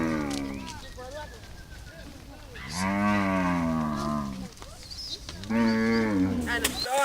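Zebu and crossbred cows mooing in Niger, including a black crossbred bull: two long, loud, close moos with a noisy outdoor background between them.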